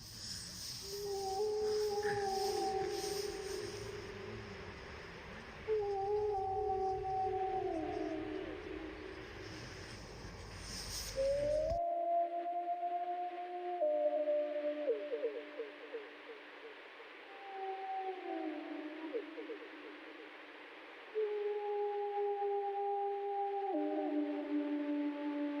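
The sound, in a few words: wolf pack chorus howl with puppies, Yellowstone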